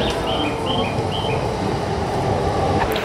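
Tokyo metro train at a station platform in Japan, a steady loud rumble of wheels and motors with faint high chirps over it and no talking.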